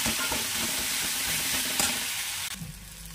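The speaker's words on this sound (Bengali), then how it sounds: "মশলাটা ভালোভাবে কষানো হোক।" Spice paste seasoned with salt and turmeric sizzles and fries in a pan as it is stirred. A steady hiss fills the scene, broken by occasional spatula scrapes, and the sizzle eases near the end.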